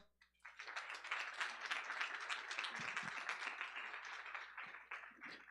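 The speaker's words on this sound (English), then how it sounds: "Let's clap him up." An audience applauds a presenter at a venture pitch event, a dense, steady burst of clapping that lasts several seconds before thinning out at the end.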